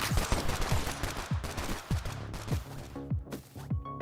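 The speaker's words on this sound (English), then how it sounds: "Assault rifles blazing in the ancient forest." Rapid bursts of assault rifle gunfire from the video game Bullet League crackle close and loud, with repeated sharp shots in quick succession throughout.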